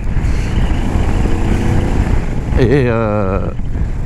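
Loud, constant wind buffeting the microphone with the hum of a Moto Morini Calibro motorcycle engine beneath while riding, and a brief voice cutting through near the end.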